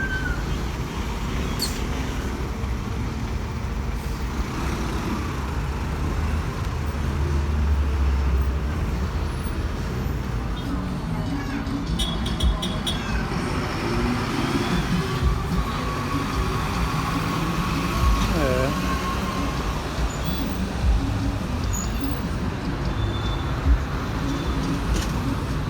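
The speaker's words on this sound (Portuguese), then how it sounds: "Aproveitando gravando uma movimentação de ônibus também." Caio Millennium BRT buses, a 2017 Scania 6x2, moving along Ragueb Chohfi street, with a steady rumble of traffic and passing engines running throughout, birds chirping faintly in the background.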